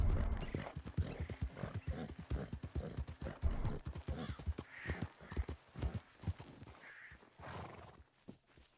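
Horses clip-clop along at a steady walking pace in Red Dead Redemption 2, hooves close and loud with an occasional whinny and faint talk underneath.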